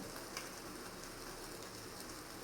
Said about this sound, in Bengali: চিকেন তন্দুরি রোস্ট হচ্ছে এখন।